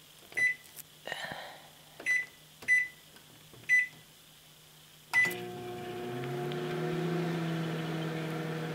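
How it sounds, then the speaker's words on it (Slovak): Five sharp beeps from a microwave oven's keypad precede a clunk as it starts, then a steady humming drone as the oven runs. "Vložiť to do mikrovlnky."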